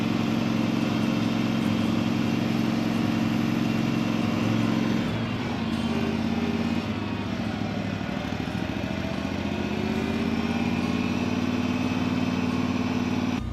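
A tractor engine runs steadily nearby at a tractor parade with a low, throbbing hum, its pitch shifting slightly partway through as the throttle changes.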